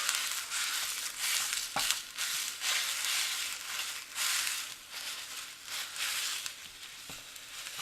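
Ground meat being broken up with a spatula in a hot pan, sizzling and frying with repeated scraping and crushing strokes, close and steady throughout with no talk.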